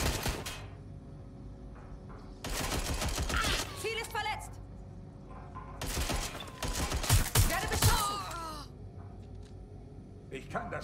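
Bursts of gunfire punch through a wall in Watch Dogs: Legion, arriving in two loud rapid clusters separated by quieter stretches.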